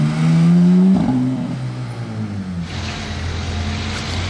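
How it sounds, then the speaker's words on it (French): A Porsche engine approaches on a Monaco street, a loud rising drone that swells and then shifts in pitch as the car draws near, followed by lower steady engine rumble. "j'entends une Porsche, je l'entends arriver"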